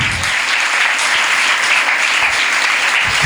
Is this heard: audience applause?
yes